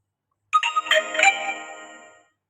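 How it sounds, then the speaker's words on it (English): A phone message notification plays alone: a bright, bouncy chime of several quick melodic notes that rings out and fades smoothly over about a second and a half, with silence before it. "I'm really sorry for the notification sound."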